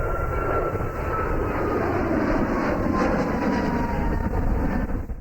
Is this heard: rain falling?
no